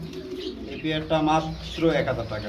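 Bombay running pigeons at a market cooing, a few soft throaty coos close by, with people talking in the background.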